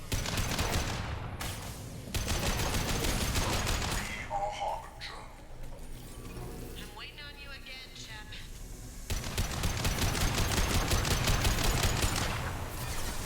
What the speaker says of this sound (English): I wonder if we should turn around and go towards where the gunshots are.